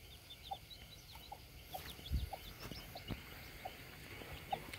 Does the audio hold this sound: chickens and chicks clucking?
yes